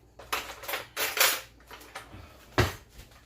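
A metal spoon is pulled from a drawer of cutlery in a home kitchen while making stromboli, giving several close, bright clinks and rattles in short bursts with a sharper clatter near the end.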